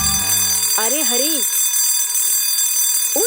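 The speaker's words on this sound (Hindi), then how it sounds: "उठ जा, कम से कम अलार्म तो बंद कर दे।" An alarm clock rings in a bedroom scene of a Hindi crime thriller film, sounding loud, rapid electronic beeping bursts followed by warbling rising-falling tones that stop and start again briefly at the end.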